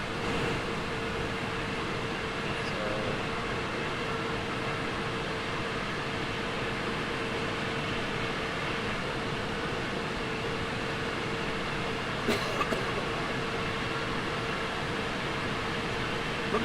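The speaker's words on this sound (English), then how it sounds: "This is an old school loco in the 90s." An old-school 1990s locomotive runs in Train Sim World, a steady low mechanical drone and rumble with a faint whine, fairly quiet and continuous, with a brief clank near the end.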